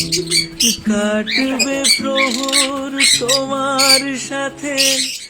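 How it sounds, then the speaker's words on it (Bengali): Colourful birds kept in a zoo-like enclosure in the Sundarbans squawk, whistle and chatter in dense, overlapping calls, loud and close, with no voices. "এই বিভিন্ন রং বেরঙের পাখি, মানে এত ভালো লাগছিল ওদের আওয়াজ সবকিছু"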